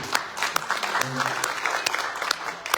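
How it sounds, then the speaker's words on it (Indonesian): A church congregation at a Sunday service applauding, a lively crowd of clapping hands with sharp individual claps standing out, fairly close and loud, with a voice speaking briefly over the middle of it. "Bisa tepuk tangan untuk Tuhan dulu."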